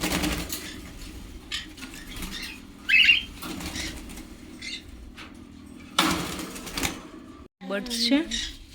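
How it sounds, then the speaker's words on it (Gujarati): Birds chirp in a village in the evening, with short bright calls and a few quick chirps rising over a low steady hum, while people talk nearby. "બર્ડ્સ છે."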